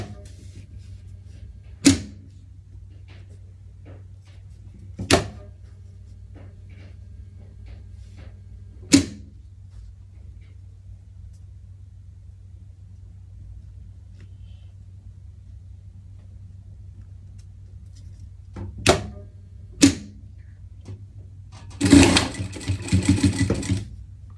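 A sewing machine topstitches a seam on a pet chef-dog costume, firing in short separate bursts at around 2, 5, 9, 19 and 20 seconds over a steady low hum, then running longer and busier near the end.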